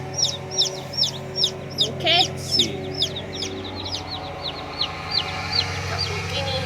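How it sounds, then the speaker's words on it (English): Baby chicks cheep in rapid, high repeated peeps at close range, with a few soft clucks mixed in, while a person speaks briefly. "Baby chicks"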